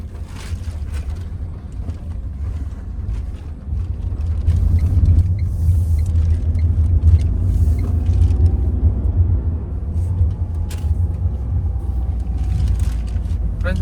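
A Tata Tigor car drives over a rough, bad road, its cabin filled with a loud, continuous low rumble and thudding road noise that grows heavier partway through, with occasional knocks from the surface.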